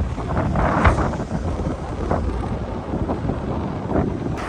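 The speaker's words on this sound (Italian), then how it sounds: "Minchia raga, che vento oggi," Strong wind buffets the microphone in heavy, rumbling gusts that swell and ease at Rosignano on the Italian coast, with no other sound standing out.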